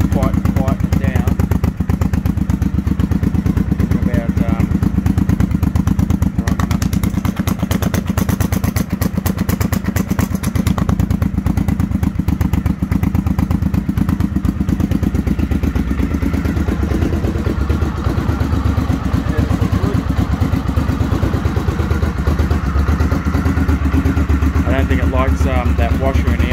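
A Honda XLV750R motorcycle engine runs loud and steady throughout with a makeshift exhaust, its low rumble and clattery pulsing continuous, while a person talks over it at times.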